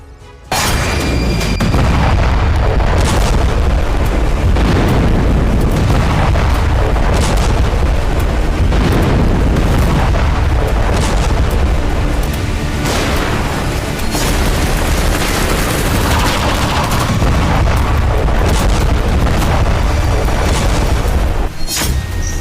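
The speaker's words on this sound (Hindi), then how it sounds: "कई ठिकानों पर तबाही का विस्फोट" Dramatic explosion sound effects in a news report about war threats, a continuous barrage of heavy booms and bursts with deep rumbling, loud and dense with no pauses.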